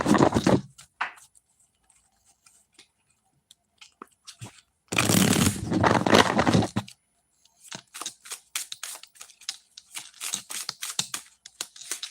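Tarot cards are shuffled by hand in several crisp riffling bursts, one longer flurry in the middle, separated by near-silent pauses and followed by quick scattered flicks.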